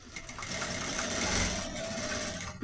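A sewing machine runs steadily, stitching clear plastic onto a toothbrush case in one continuous close burst of rapid needle strokes, with a brief pause near the end.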